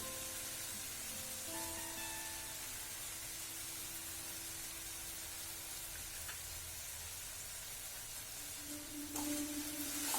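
Ground spices and sugar frying in a pan for Bengali chicken kosha, a steady, faint hiss and sizzle throughout with small clinks of stirring near the end.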